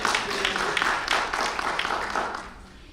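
Audience applause at an academic keynote lecture, a moderately loud patter of many hands clapping that holds steady and then gradually thins and fades toward the end.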